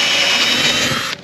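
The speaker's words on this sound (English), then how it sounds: "so I could drill them a little easier" A power drill bores holes into a truck camper, a steady, loud, high-pitched whine that runs without a break and cuts off near the end.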